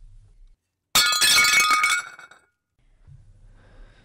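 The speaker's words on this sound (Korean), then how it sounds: "바닥에는 그가 모조리 깨트려버린 액자들로 난장판이 되어 있었습니다" Glass picture frames smash onto the floor of a room in a large mansion: one loud, close crash with a dense spray of tinkling shards lasting about a second, then near silence broken by a low murmur.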